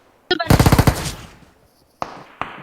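Automatic gunfire in PUBG Mobile on the Erangel map: one loud rapid burst of about a dozen close shots, followed after a pause by two single sharp reports.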